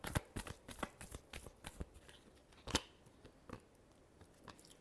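Tarot cards being shuffled, a rapid series of crisp flicks and slaps at close range, quiet and irregular over several seconds.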